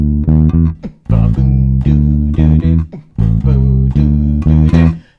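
Electric bass guitar plays a punchy bass line, with short, snapping repeated notes in a syncopated groove broken by brief pauses. It is loud, close and alone.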